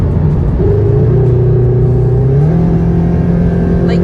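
A Subaru BRZ/Toyota 86 with an aftermarket exhaust revs up with a deep, throaty exhaust note, the pitch climbing then settling, loud and close.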